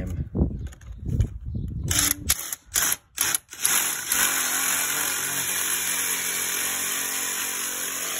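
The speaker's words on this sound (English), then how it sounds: "letting the drill do its work." A power drill bores into a concrete retaining wall, starting with several short bursts and then settling into a long, steady, loud grinding whine that runs alone to the end.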